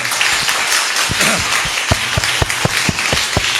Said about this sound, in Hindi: ताली बजाओ, चट चट चट चट खत्म